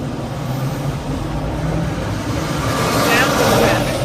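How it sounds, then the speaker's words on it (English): Freeway traffic on I-20 outbound east through a construction zone, a steady broad road rumble with vehicles zooming past in the left lane, growing louder toward the end as one passes nearby. "Sounds of traffic."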